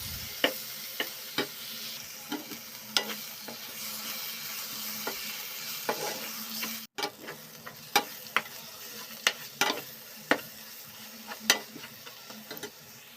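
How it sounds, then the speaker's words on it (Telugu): Food fries in a pan with salt and turmeric, giving a constant close sizzle broken by sharp, regular taps and scrapes as it is stirred. There is a brief dropout partway through. "కొంచెం ఉప్పు, బాగా వేగుతున్నాయి చూడండి."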